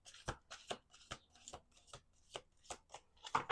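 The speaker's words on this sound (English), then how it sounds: "We're going to do two more shuffles." Playing cards shuffled by hand in several separate bursts, each a sharp riffling rush with short pauses between, close and fairly quiet, with no voices.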